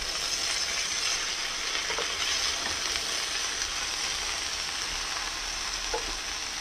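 Radish greens being stirred in a hot frying pan during a winter vegetable dish, giving a steady, moderately loud sizzle with faint scraping of the spoon, no voices.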